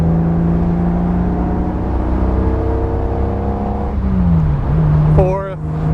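A 1953 Jaguar XK-120 SE Roadster engine pulls hard in third gear on a winding road, its steady drone rising in pitch as it accelerates, then dipping briefly before climbing again near the end.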